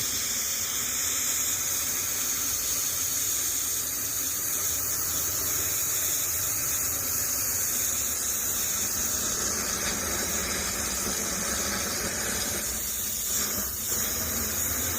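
Water runs through a pool hose as a constant soft hissing flow, faint and unbroken from start to finish, with a small change in texture toward the end.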